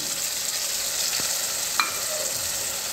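Ginger, garlic and green chili paste frying in hot oil with already-fried onions for a home-style chicken curry, giving a steady close sizzle with a couple of brief clinks of a spoon against the pan.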